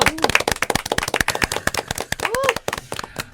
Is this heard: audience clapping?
yes